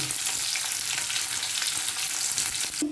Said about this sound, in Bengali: এখানে আমি একটা গোটা পেঁয়াজ কেটে নিয়েছি মাঝারি সাইজে, এটা একটু লাল লাল করে ভেজে নেব।